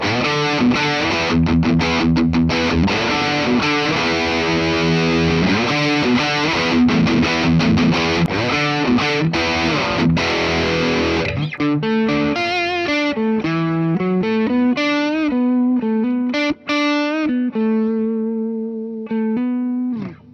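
A Les Paul Junior electric guitar, on its bridge pickup with heavy distortion, plays solo for about twenty seconds: thick, gritty strummed chords, then a looser run of ringing single notes.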